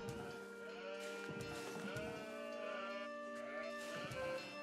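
Sheep bleat in the Age of Empires 4 strategy game, wavering animal calls repeating over a steady bed of game music and ambience, moderately loud throughout.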